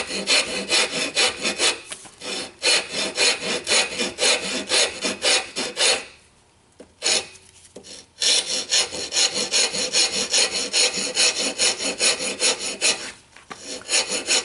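A wooden knife handle being sanded near its metal blade, steady rhythmic rasping strokes close up, with a couple of short pauses before the scraping resumes.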